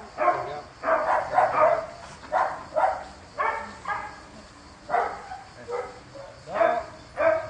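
A dog barks in repeated short bursts during an obedience training lesson, loud and close, with pauses between the volleys and a few higher yips mixed in.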